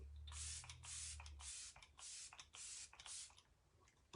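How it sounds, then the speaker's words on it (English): An Arbonne refreshing setting spray gives a run of short, close pumped hisses, about eight quick mist bursts in an uneven rhythm, each a bright airy spritz separated by brief pauses. "we're going to go in with the refreshing spray"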